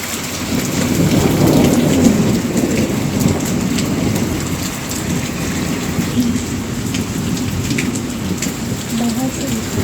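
Heavy rain falls steadily outside, a thick constant wash of drops on surfaces with deep thunder rumbling beneath it, loud and near, swelling slightly early on and then holding even.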